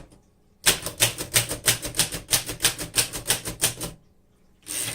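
Rapid keystrokes on a 1938 Remington Model 5 manual typewriter, a steady burst of crisp close clacks lasting about three seconds, then a pause and another keystroke run beginning.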